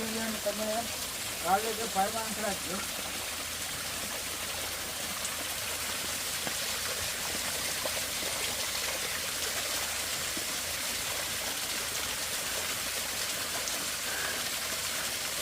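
Continuous rushing stream water, steady and close, with a voice heard briefly at the start.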